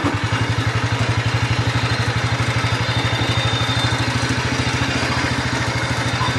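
A 1970-72 Sears Compact 7 lawn tractor's small engine lugging up a slight incline, a loud, close, rhythmic low thumping chug that holds steady throughout.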